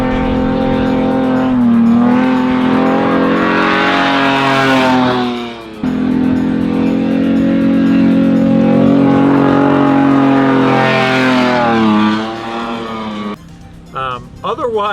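Nissan Z drifting on cheap Antares Ingens A1 tires, the engine held high and droning loud and close, with long tire squeal over it, two sustained passes, each broken by a sudden drop as the throttle lifts.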